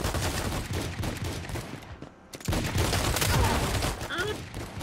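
Mobile shooter Valorant Mobile (Hyper Front) played on an iPad, with loud, rapid gunshots in dense bursts, a brief lull midway, then renewed heavy firing.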